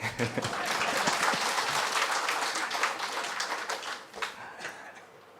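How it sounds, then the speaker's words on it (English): Hearty clapping from the audience at an anniversary celebration of Arsha Vidya Gurukulam, a dense, steady wash of many hands that thins out toward the end, with faint voices mixed in. "if you want to clap, you can clap heartily"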